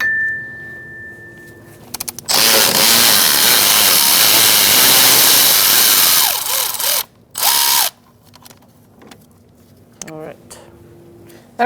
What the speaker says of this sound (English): Looks like our bolt is broken off, so we're going to have to drill that out.